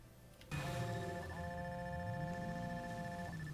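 A phone ringing in the video game Watch Dogs, a steady electronic ringtone with sustained tones that begins abruptly and repeats, loud over a low background hum.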